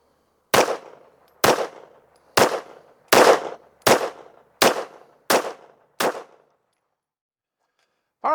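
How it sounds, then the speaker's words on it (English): A Taurus G3 pistol fires eight sharp, loud shots at a steady, roughly one-second rhythm, each crack trailing off in a short echo, with silence after the last. "Let's shoot a 10-shot group at the top left target"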